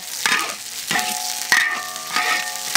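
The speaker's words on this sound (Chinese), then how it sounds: "再下入姜、蒜、小米椒，给它炒一下。" Ginger, garlic and small chili peppers stir-fried in hot oil, giving a steady close sizzle with a few sharper bursts as the ingredients are tossed in the pan, no voices.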